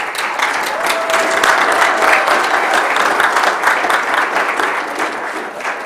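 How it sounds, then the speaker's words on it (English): An audience at a Rochester Board of Education business meeting gives a loud, sustained round of applause, thick continuous clapping that holds steady before easing slightly at the end. "give them a round of applause"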